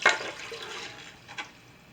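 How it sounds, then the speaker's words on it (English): Water poured from a cup into a crock pot of minestrone soup with tomato sauce and cherry tomatoes, a short soft splashing gush near the mic followed by a quieter trickle, no talking. "I'm adding a cup of water"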